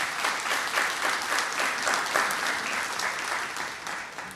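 Sustained audience applause at the Trinidad and Tobago Diamond Standard Awards Ceremony, a steady dense wash of many hands clapping that holds evenly and begins to fade toward the end.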